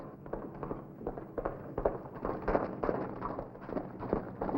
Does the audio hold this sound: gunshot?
yes